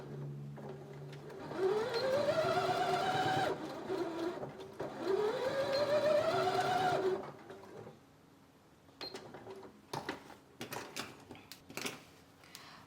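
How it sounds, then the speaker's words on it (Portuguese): A sewing machine stitches along the edge of a fabric napkin basket in two steady runs of about two seconds each, with a rising whir. Quieter handling clicks and rustles follow. "eu vou costurar ela nesse sentido, bem na beiradinha aqui com a minha costura que eu já fiz anteriormente"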